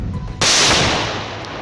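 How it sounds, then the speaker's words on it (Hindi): A single sharp explosion from a controlled detonation of defused explosives in Pulwama, Jammu and Kashmir, bursting suddenly after a brief quiet and then rolling into a long, loud echoing rumble that slowly fades. "धमाके की ऐसी गूंज कि पूरा इलाका थर्रा उठा।"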